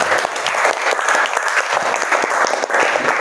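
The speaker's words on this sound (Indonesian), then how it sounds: "Kasih aplaus temannya ya." A classroom of students applauds a classmate with a burst of steady, close clapping that lasts several seconds without a break.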